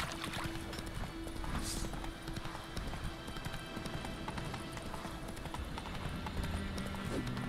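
Galloping horse hooves in The Witcher 3 pound in a steady, rapid clip-clop rhythm, loud and continuous throughout, with a brief whinny and game ambience layered beneath.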